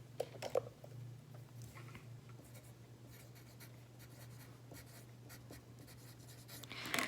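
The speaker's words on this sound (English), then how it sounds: "I'll write that down." Colored pencil scratching across paper in soft, continuous strokes, faint and steady with a constant low hum behind it.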